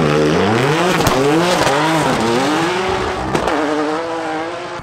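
A drift car fitted with a GT-R engine on a Tokyo track: a loud, close engine revving hard with rising and falling pitch sweeps, shifting gears, and tire squeal as it slides past.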